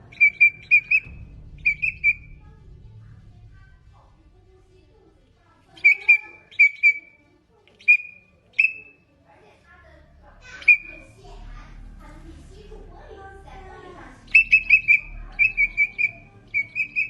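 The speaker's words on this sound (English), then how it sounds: "It is so amazing to see how this bug whistles from the core of its body when touched." A bug whistles from its body when touched, producing sharp, high chirping bursts in small repeated clusters with pauses between them, over a low rumble and faint background voices.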